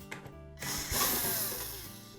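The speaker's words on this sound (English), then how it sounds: "So next we'll remove the screws that secure those clamps." Screws holding the oven door clamps of a GE range are backed out with a power driver. A few brief clicks come first, then a loud, steady whirring runs to the end.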